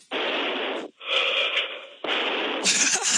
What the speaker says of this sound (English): Give us a bit of your heavy breathing.